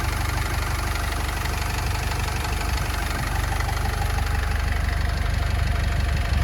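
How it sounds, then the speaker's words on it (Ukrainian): A 2013 Opel Vivaro 2.0 diesel van engine idles steadily nearby, a low, even rumble with a faint rhythmic knock that holds unchanged throughout. "Моторчик рівнесенько працює."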